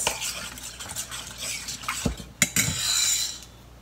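Lemon juice stirred into a soda jelly mixture in a bowl, with a spoon scraping and clinking against the bowl in quick, close strokes and a few sharper knocks.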